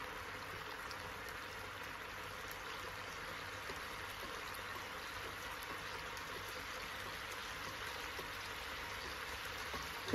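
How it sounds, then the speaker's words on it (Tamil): Butter garlic chicken gravy thickened with cornflour simmers in a pan, a faint continuous bubbling and gentle hiss holding steady throughout with no talk. "இது நல்லா கொதிக்கட்டும்."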